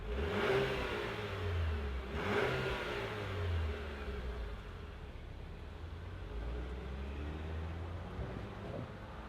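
Engine of a Moonstone Gray 2026 Buick Enclave Avenir SUV, a non-V6 unit, rumbling with low steady revving throughout, swelling briefly near the start, close and moderately loud with no talking.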